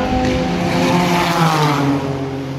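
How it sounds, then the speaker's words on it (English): High-pitched whining engines of open-wheel racing cars screaming past at Killarney race circuit, loud and close, their pitch sliding downward as they speed away. "These are like the Formula One cars."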